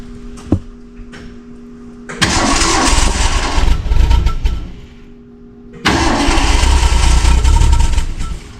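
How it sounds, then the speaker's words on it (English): A 1966 Mustang barn find, idle for 40 years, with a plugged carburetor and helped along with ether, cranks and fires in two loud, rough bursts of engine roar separated by a short lull. "he's gonna see if a bunch more comes out while we fire this thing again real quick"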